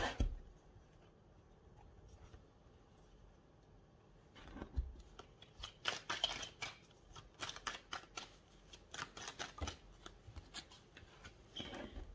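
Tarot cards are picked up and handled, quiet and close, with soft papery flicks and riffling that build into a rapid shuffling patter after a few seconds of near silence.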